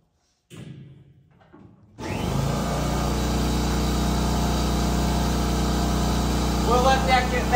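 A motor kicks on abruptly after a brief quieter stretch and runs steadily with a loud, constant mechanical drone, like a compressor pumping up.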